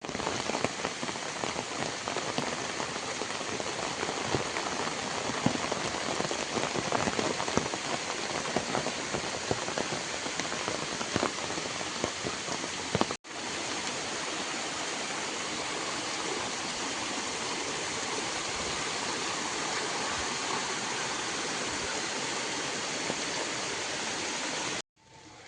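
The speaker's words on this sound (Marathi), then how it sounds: "या ठिकाणाहून पाणी येतं." Water flows from a spring at a river's source on a misty hillside in the monsoon season, a continuous close, even rush of water lasting the whole stretch.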